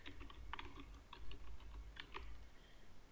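Quiet, scattered keystrokes on a computer keyboard as text is entered into a fillable PDF form field, a few taps in small clusters over a low background hum.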